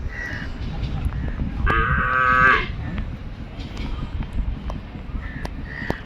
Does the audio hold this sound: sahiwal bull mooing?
yes